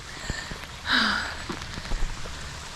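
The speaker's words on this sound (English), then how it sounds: "It's just torrential rain." Torrential rain pours over a steep, wet coastal road in Portugal while cyclists push bikes uphill: a steady close hiss of rain with a brief louder surge and scattered bumps and steps, no talking.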